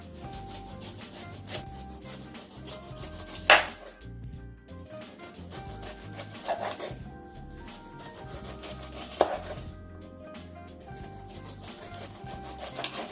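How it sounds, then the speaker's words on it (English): A knife works around a pineapple, peeling away the rind with steady close rasping and scraping strokes and a few sharper cuts, no talking. "So the first thing we're going to do is to go ahead and start peeling our pineapple"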